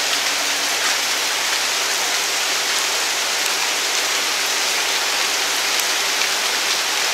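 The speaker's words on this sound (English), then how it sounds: "This is our first bit of rain since we've been here" Rain falling during a thunderstorm, a dense steady hiss of drops on surfaces, even and continuous, fairly loud and enveloping with no voices.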